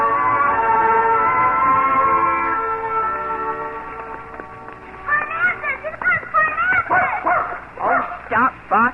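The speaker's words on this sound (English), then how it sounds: "Barking at that hound, Bach." A dog barks at a hound in a radio drama, with several sharp yapping barks in quick bursts in the latter half, following a stretch of music and talk.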